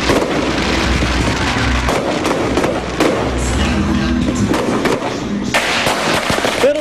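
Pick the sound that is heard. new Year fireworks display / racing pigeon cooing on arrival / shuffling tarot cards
new Year fireworks display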